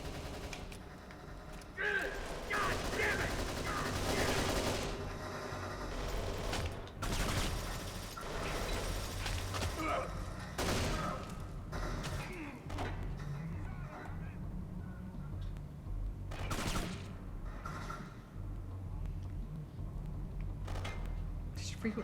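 Gunfire in the video game Kane & Lynch 2: Dog Days, with loud, dense bursts of shots running throughout and voices talking over them.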